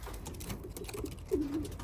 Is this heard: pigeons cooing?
yes